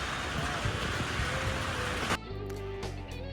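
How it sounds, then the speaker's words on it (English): Rain falls steadily near the sugarcane district of Serena, a dense patter that cuts off abruptly partway through, leaving a quieter background. "guess what? Rain."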